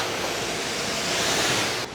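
A garden hose sprays a steady hissing stream of water over a car while it is being wetted down, loud and continuous, ending with a slight drop in level.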